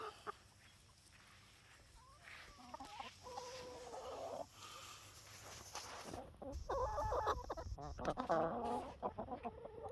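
Backyard chickens and a rooster clucking softly nearby, growing busier and louder toward the end with overlapping calls and some rustling.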